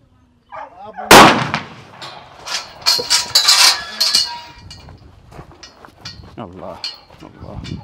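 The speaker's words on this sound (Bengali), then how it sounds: "ওয়ান শট, এখনই ফায়ার করতে যাচ্ছে" A single loud gunshot rings out at a Qurbani animal slaughter in Canada, followed by clattering, rattling activity and people talking nearby.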